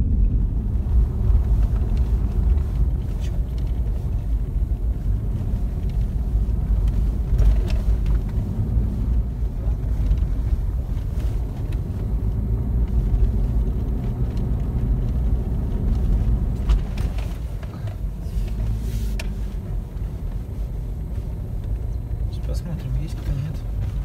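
A car carries people along a rough road toward a fishing spot in Yakutia, its steady low engine rumble and road noise filling the cabin throughout, close and continuous.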